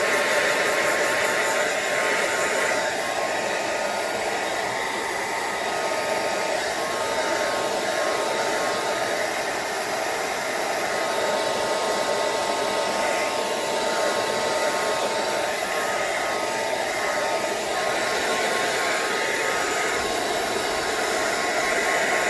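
A hair dryer blows steadily to dry paint on an art journal page, a loud, continuous whooshing roar that holds an even level for the whole stretch with no talking over it.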